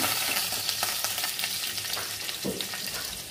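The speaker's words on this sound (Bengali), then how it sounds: "আর একটু ভাজা হবে। পেঁপেগুলো কিন্তু ভাজা হয়ে গেছে।" Papaya pieces frying in hot oil in a kadai, a dense continuous sizzle and crackle heard up close with a brief stir near the end, no talking.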